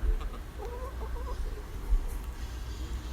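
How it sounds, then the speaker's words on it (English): Chickens clucking softly at a distance, a few short scattered calls over a quiet low rumble, with no one talking. "Those are chickens."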